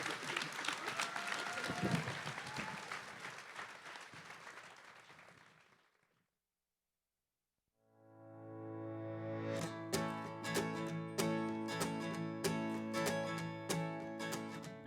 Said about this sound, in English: Round of applause for David and Amy.